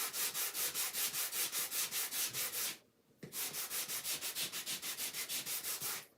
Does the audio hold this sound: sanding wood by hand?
yes